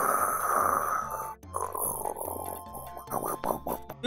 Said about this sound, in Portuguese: É um ronco infinito?